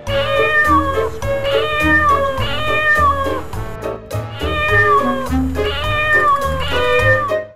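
A cat meows repeatedly aboard PIA flight PK 682 at Multan airport, bound for Islamabad. The drawn-out, tonal cries come close and loud, one after another, with no talking.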